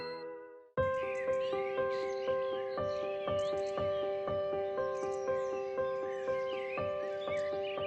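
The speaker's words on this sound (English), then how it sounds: "The sound of the birds woke Mr. Fox up." Birds call and chirp over a steady bed of sustained music tones on a spring morning, short bright calls scattered throughout at moderate loudness after a brief quiet opening.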